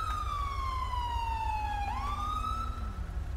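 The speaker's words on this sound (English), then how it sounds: "I don't know why the siren's on" Police car siren in a video game wails loudly and steadily, its pitch sliding downward then rising again over a constant low rumble, with no talking.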